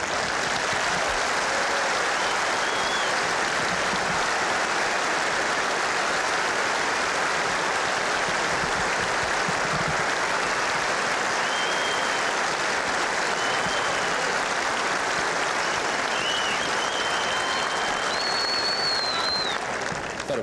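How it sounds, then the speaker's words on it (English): Crowd applause at a 1990 Cincinnati ATP tennis trophy ceremony, sustained loud clapping from a large stadium audience that holds steady for the whole stretch, with faint whistles rising above it. "That applause took longer than the match."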